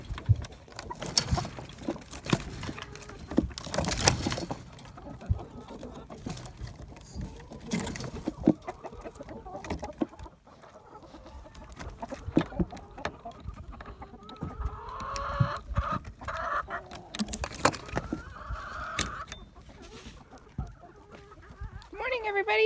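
Chickens cluck and murmur around a cattle farmyard in the morning as they are let out, with scattered bumps and rustling handling noises and occasional faint voices in the background.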